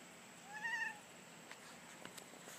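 A cat gives a short, faint meow in a quiet garage setting, followed by a few soft clicks and rustles against a low, hushed background.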